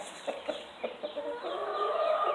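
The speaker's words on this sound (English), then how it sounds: "this bird here started crowing" A rooster crows close by, a few short clucking bursts building into a sustained, rising crow toward the end, with no talking over it.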